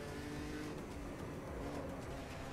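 Race car driving in the Automobilista 2 video game, a steady low engine drone holding at a constant pitch, faint and continuous with no talk.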